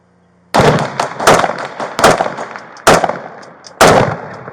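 Police gunfire at a critical incident, several loud sharp shots in an uneven sequence, each followed by a ringing echoing tail, close and forceful.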